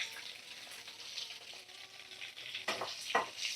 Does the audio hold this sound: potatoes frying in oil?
yes